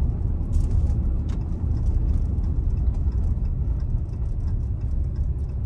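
A car engine runs at low RPM through a couple of gear shifts, a steady close rumble with a faint hiss above it.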